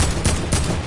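AK assault rifle firing in Fortnite, two or three quick loud shots in under a second, close and punchy over a noisy game background.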